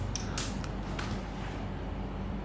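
A security door in a beachfront villa on Koh Lipe, Thailand, creaks as it opens, a few short squeaky creaks near the start over a steady low background hum.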